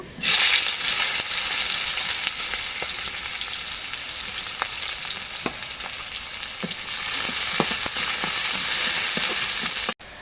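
Onions fry in a wok with a loud, continuous sizzle, broken by scattered stirring clicks and taps up close. There is no speech.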